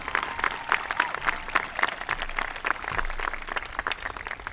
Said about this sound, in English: How about if we get another round of applause for those student speeches?